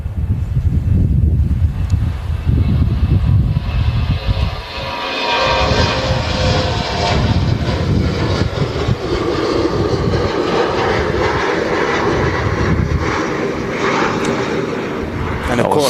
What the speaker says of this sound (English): Early rotate from the Finnair.